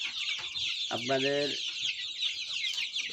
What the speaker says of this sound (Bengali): এখানে সকল প্রজাতির মুরগির বাচ্চা পাওয়া যায়